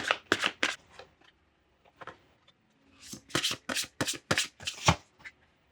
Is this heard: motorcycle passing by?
no